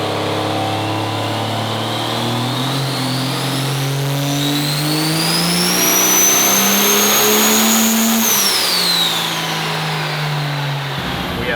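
A triple-turbo Cummins diesel engine on a dyno load pull climbs steadily in pitch for several seconds with a rising turbo whine, then drops off abruptly, loud and close.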